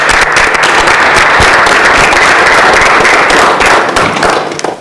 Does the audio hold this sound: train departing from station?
no